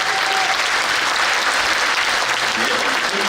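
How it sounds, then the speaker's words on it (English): Audience applause at an Elvis Presley talk show, a steady dense patter of many hands clapping throughout, fairly loud and continuous with no break. "Give yourself a nice round of applause, okay?"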